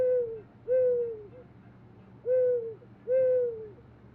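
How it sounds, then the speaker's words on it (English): Four clear, moderately distant owl hoots in pairs, each a smooth descending tone with a short gap within the pair, over a quiet low background hum. "Let's hear the owl."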